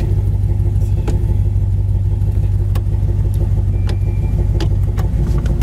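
A 1965 Chevrolet Chevelle convertible with a 700R4 automatic transmission idles steadily up close, its engine giving a constant low rumble with a few faint clicks over the top and no talking.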